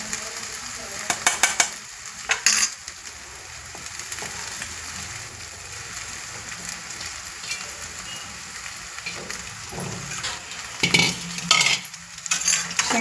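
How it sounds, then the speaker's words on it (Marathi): Flattened rice for kande pohe is turned in a hot pan with a steady background sizzle and repeated sharp scraping clatters of a spoon against the metal, close and without voices. "आपण याच्यामध्ये पोहे टाकून घेऊयात"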